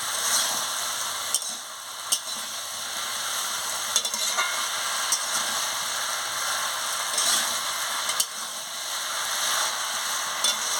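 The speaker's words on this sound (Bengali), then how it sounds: "চিংড়ি মাছ দিয়ে ভালো করে কষিয়ে নিচ্ছি আনাজের সঙ্গে" Prawns sautéing with vegetables in a pan for a raw pumpkin and prawn chorchori, a continuous close sizzle broken by occasional sharp clicks and scrapes of stirring, no voices.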